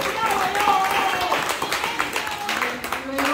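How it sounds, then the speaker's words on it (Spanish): Scattered applause from a small crowd rises for the last-place finishers in a game contest, with clapping mixed under ongoing talk and some background voices. "un aplauso por favor para el último lugar"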